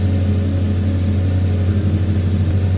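A cartoon truck's engine idles steadily with a low, constant rumble and faint rhythmic chugging throughout, loud and close with no voices over it.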